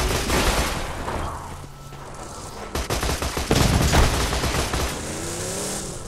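Machine gun fire in the video game Borderlands 2, with rapid bursts of shots that rattle loudly, pause, then start again over a low background rumble.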